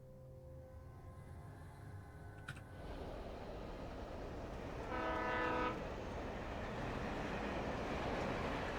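A train rumbles by in the video game Alan Wake Remastered, a low dense roar that swells partway through, with a brief horn-like tonal blast near the middle and no talking.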